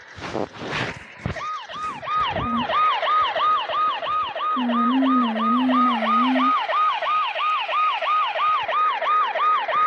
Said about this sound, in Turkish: Polis səsdir. Şimdi burada polis maşınının özü var.